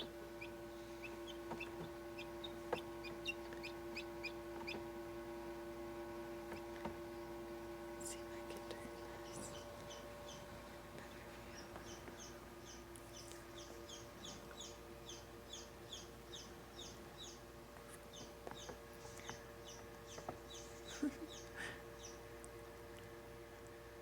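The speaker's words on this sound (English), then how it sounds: "And they're up and chirping." Newly hatched chicks in an incubator peep in rapid, repeated high chirps, faint and scattered in clustered runs over a steady mechanical hum.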